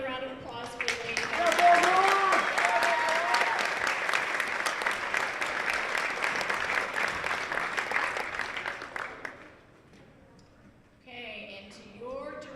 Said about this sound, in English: How about another round of applause for the ladies?